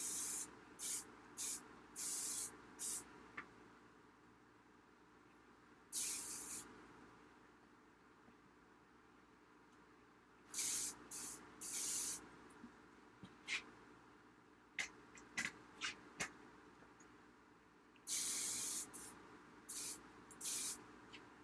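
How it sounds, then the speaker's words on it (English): Hairspray hisses from an aerosol can onto freshly blow-dried hair in short, sharp bursts, about a dozen spaced irregularly across the stretch, each loud and close against a quiet room. "So your hairspray can really be a working tool."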